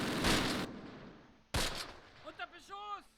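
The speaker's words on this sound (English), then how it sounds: "We got MG fire coming up." Machine gun fire from the Close Combat war game sounds as two loud, abrupt bursts separated by a short gap, followed by someone speaking.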